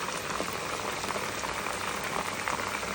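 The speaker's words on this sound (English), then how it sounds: "and it's frying up." Steady crackling and sizzling of chicken frying in hot oil in a pot, a dense even hiss throughout, fairly quiet and without speech.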